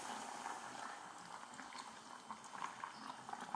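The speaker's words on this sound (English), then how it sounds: "now we are going to put our hot water" Hot water poured into a cooking pot while making tripe stew: a faint, continuous splashing and bubbling liquid rush that holds steady throughout, with no talk over it.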